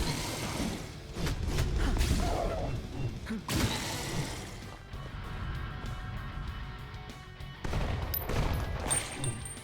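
Gunshots in the vampire-hunting game NUNHOLY, a few sharp reports with mechanical clicks and creaks around them, moderately loud and spaced irregularly, no talking.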